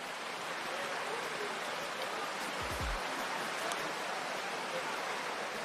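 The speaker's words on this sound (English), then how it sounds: "I'm sure at home you can hear this rain come down." Rain comes down steadily in a storm at an outdoor surfing event, a dense, even wash of noise that holds throughout, with a brief low rumble partway through.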